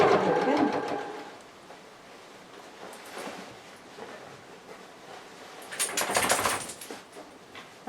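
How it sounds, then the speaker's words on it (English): A sewing machine stitches fabric around the edge of a vintage-style apron, running in a loud burst at the start, then a quieter stretch with soft handling noise, then another fast burst of stitching near the end. "carry on sewing all the way around"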